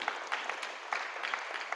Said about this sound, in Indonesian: Tepuk tangan untuk the king of leadership hari ini.